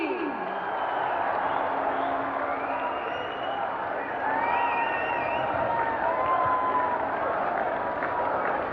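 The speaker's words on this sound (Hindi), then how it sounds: "आइए तालियों की गूंज के साथ उनका स्वागत करें" An audience at a development-works event in Daman welcomes Prime Minister Narendra Modi with sustained applause and crowd cheering, a steady, even wash of clapping with scattered shouts, moderately distant and continuous throughout.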